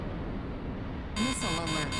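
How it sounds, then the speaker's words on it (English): A missile alert warning tone sounds in a combat flight video game, starting partway through as a steady electronic beep with rhythmic pulses over a low rumbling background. "Missile alert."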